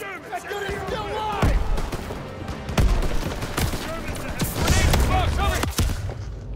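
Gunfire from the video game Call of Duty: WWII, sharp shots cracking out at irregular intervals in a busy wartime battle soundscape, with voices shouting over the firing.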